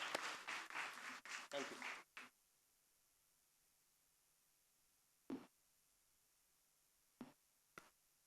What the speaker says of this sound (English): a big round of applause for all the awardees